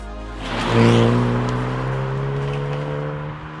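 A Hyundai i20N with its 1.6-litre four-cylinder turbo engine drives along a country B-road, a steady mid-range engine note holding under light acceleration, fairly close and alone.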